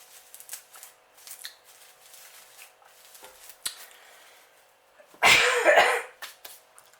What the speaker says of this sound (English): because this is sphagnum moss and it's creating dust, it's giving me a cough.